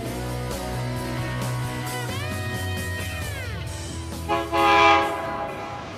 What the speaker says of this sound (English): we will see the Pacific Express as it traverses one of the most scenic stretches of railroad in the Northeast.